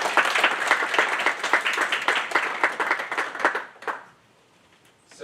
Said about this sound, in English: Can we get another round of applause for the new senators?